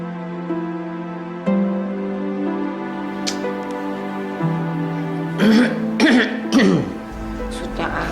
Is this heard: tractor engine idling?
no